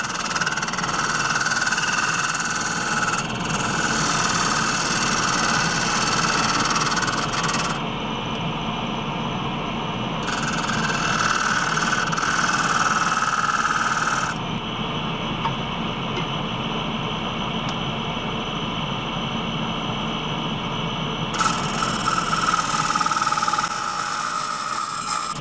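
Wet cherry turned on a wood lathe with a 1/2 inch spindle gouge: a steady, close cutting hiss over a constant motor drone, with the brighter shaving noise dropping out briefly several times. No one speaks.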